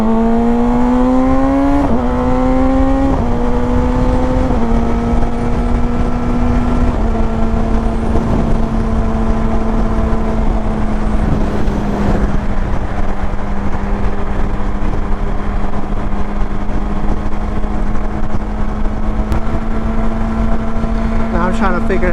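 A 2020 Kawasaki Ninja ZX6R rides on a flat tire, its engine note climbing and dropping through quick gear changes before settling into a steady cruising drone under heavy wind rush.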